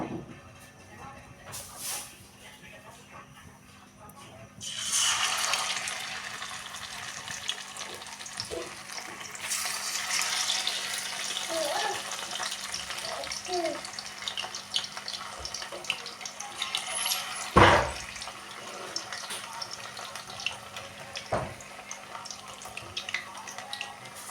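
Marinated pieces fry in a pan with oil in a home kitchen, a steady hissing sizzle that swells after a few seconds and carries on with occasional sharper spatters and clinks.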